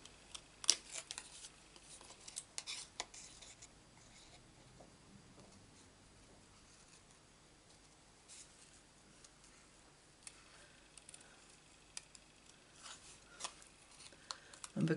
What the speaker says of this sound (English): What we're going to do is cut out the butterfly,